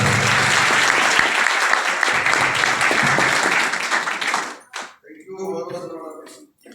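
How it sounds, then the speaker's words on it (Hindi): Loud, dense audience applause for a guru taking the stage, sustained for about four seconds before fading out, followed by someone speaking. "मैं अपने गुरु को एक बार आप सभी लोगों की जोरदार ताली होगी जबरदस्त।"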